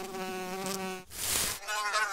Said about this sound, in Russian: А, вот и муха!